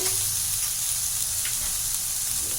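Steady, close sizzling of chopped carrots and beans sautéing in a pan, with faint stirring scrapes and no talking.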